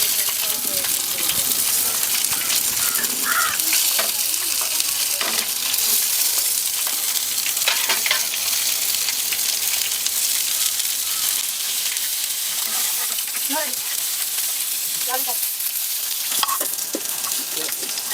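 Chicken frying on a tawa sizzles continuously and loudly, broken by scraping stirs and clinks of a utensil against the pan, with no talking.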